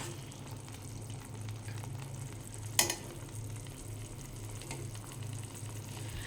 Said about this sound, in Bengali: মাঝে মাঝে একটু নাড়াচাড়া করে দিতে হবে যাতে তলায় না লেগে যায়